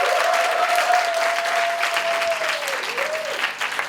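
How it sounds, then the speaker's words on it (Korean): Sustained applause from a church congregation at a young adults' service, dense and steady for several seconds, with a sustained tone gliding faintly above the clapping. "여러분 저 큰 박수 한번 주세요."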